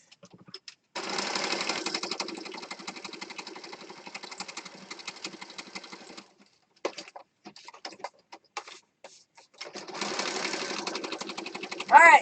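Sewing machine stitching fabric down in two long rapid runs at the start and end, separated by a stretch of sparse clicks and handling taps.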